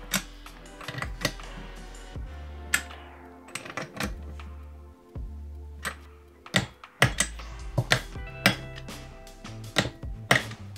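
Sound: tightening cylinder head screws to torque

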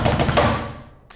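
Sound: drums playing a faster hammer blast beat

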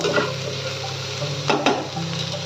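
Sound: potatoes frying in a pan with coriander and chilli

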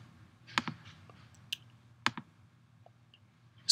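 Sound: mouse clicking to create a Google spreadsheet

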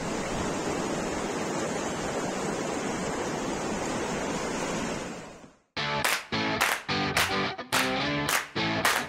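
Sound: moving water

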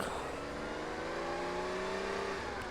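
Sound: car driving off in video game UA Online

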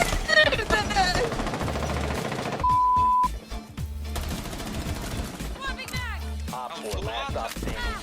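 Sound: gunfire in a video game

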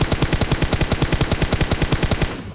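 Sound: UMP gunfire in PUBG Mobile video game

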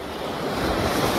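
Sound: sea waves on the beach at Punta de Rincón

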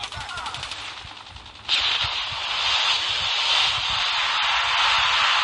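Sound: AK-107 gunfire in a video game

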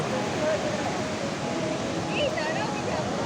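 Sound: sea waves on the beach

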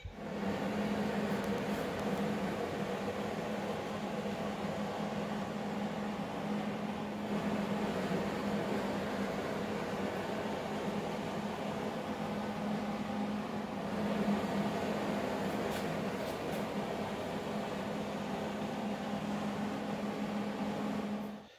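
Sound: welding the inside of a 1949 Chevy Fleetline tail panel

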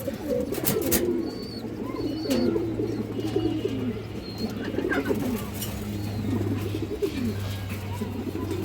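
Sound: pigeons cooing at a market

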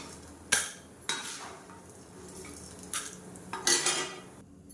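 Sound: roasted urad dal transferred from pan to plate

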